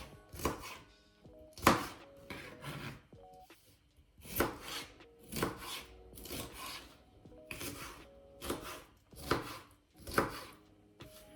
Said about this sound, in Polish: paprykę kroję w taką dość grubą kostkę